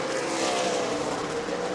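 Race cars roar through lap traffic at the New Smyrna Governor's Cup in Florida, a steady dense engine drone holding loud and constant with no break.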